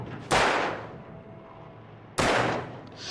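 Two sharp gunshots from a weapon in the video game Control, each a loud broadband crack with a short decaying tail, spaced about two seconds apart over a quiet background.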